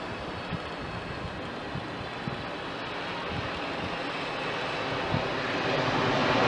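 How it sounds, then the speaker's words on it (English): An airliner on final approach to Ninoy Aquino International Airport in Manila, heard from inside as a steady, loud broadband engine and cabin roar that swells slightly toward the end. "we are now on our final approach and will be landing in a few minutes"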